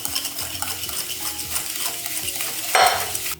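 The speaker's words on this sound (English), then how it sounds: "now we're just gonna give that a whisk" Whisking vegan chocolate cupcake batter with sugar and vanilla extract: steady scraping and clinking of a whisk against a bowl, close and continuous, with a brighter clatter near the end.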